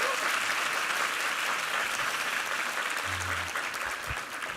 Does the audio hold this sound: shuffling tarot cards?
no